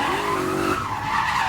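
A BMW E28 drift car with a V8 skids on the e-brake, its tires giving a loud, close squeal that rises then cuts off as engine roar carries on.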